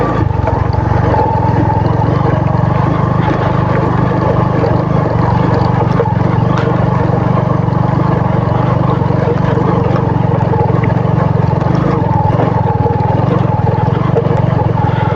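A regular commuter motorbike engine drones steadily and loudly while climbing a steep, loose, rocky off-road hill track, a continuous strained hum with no break for the whole stretch.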